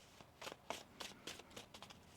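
Tarot cards being shuffled by hand in a quiet room, a soft series of quick papery riffles and slaps, close but faint, with no talking.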